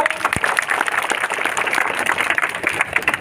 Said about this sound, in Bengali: দশটি স্কুল হাততালি একটু